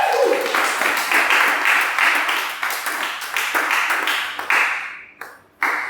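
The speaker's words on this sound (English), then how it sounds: "Please give her a round of applause" Applause from a small audience welcoming a guest, a fairly thin patter of claps in uneven bursts that fades out abruptly near the end.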